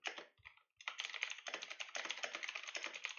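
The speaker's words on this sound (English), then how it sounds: "You can kind of work out how long the answer is based on the sound of the typing." Rapid typing on a computer keyboard, dense clicking keystrokes close up after a brief pause, continuing steadily without speech.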